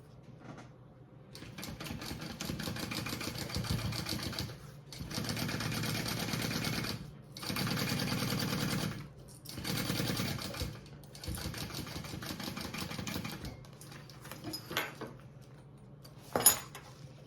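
A sewing machine bastes a pink zipper pocket piece for a travel belt, running 1/8 inch along the top in several steady bursts of stitching separated by short pauses, with a few sharp clacks near the end.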